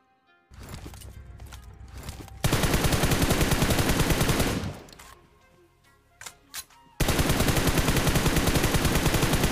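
Loud bursts of automatic gunfire in the mobile battle royale game BGMI, Battlegrounds Mobile India. Rapid rattling volleys start and stop, with brief quieter gaps and a few single shots between them.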